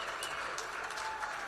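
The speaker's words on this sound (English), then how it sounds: "Let's give them a big round of applause." Applause from an event audience for donors at an Irish music fundraiser, a steady dense wash of clapping throughout the short stretch, moderately loud with no talk over it.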